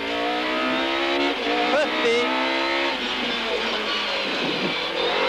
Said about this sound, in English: race cam action here is from the factory VW Golf